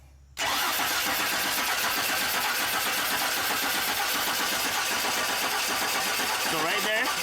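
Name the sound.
Chevy Silverado engine cranking without starting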